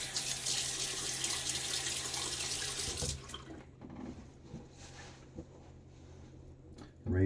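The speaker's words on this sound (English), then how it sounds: "I'm going to throw a little water on my face." A tap runs into a sink as water is splashed onto the face before a wet shave, giving a steady close splashing flow for about three seconds, then quieter drips and handling sounds.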